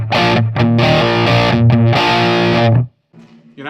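An Orange Tiny Terror lunchbox amp with the gain up, its preamp breaking up into a thick, mid-heavy overdriven guitar tone for chords and riffs, loud and continuous, then stopping abruptly before a faint tail.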